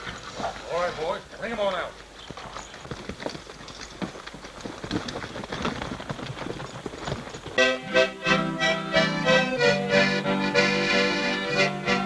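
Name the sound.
horse hooves clip-clopping as the roan is brought out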